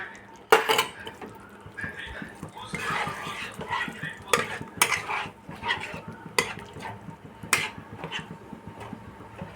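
Whisked sour yogurt goes into a pan of vegetarian eggplant dish over low heat and is stirred, with repeated clinks and scrapes of a utensil against the pan and a faint sizzle, fairly quiet.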